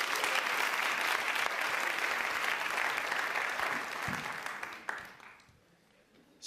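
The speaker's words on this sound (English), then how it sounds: "yeah, go on and clap for them. Go on and clap." An audience at a university commencement ceremony applauds loudly and continuously, a dense wash of clapping that thins out and fades toward the end.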